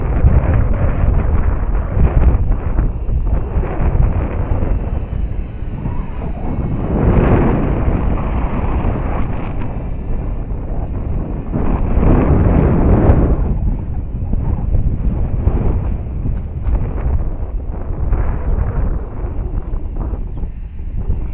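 Strong, steady wind buffets the microphone outdoors on a gusty day while a Dynam Waco RC biplane is flown, a loud continuous rumbling roar that swells in several surges with no voices.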